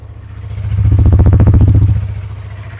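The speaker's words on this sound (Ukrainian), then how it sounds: "Ну що, два циліндра є два циліндра, звук приємний." A 2019 Yamaha R3 two-cylinder motorcycle engine idling with a rhythmic low pulsing throb that swells briefly louder in the middle before settling back, close up.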